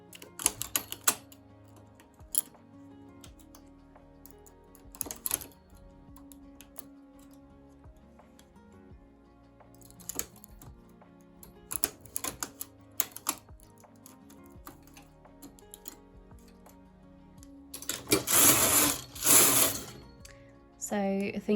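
A knitting machine working cables, its carriage producing scattered clicks and clacks at close range, ending in a longer rushing sweep, with talking in between.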